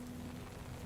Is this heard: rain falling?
yes